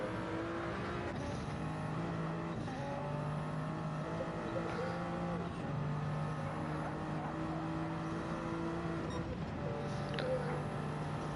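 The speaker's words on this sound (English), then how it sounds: "Let's get some in-car action here from Jaja" In-car engine sound from a racing video game, an old-school GT500 car chasing an NSX during a league race: a steady, loud engine drone with shifting tones runs throughout, with no talk over it.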